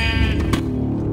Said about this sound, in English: There's a sheep down here?